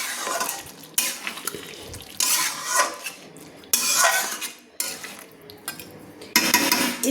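A spoon scrapes and clatters around a metal kadai of coriander chicken curry with the gas switched off, making several separate stirring bursts with short pauses between them, close up and with no one talking.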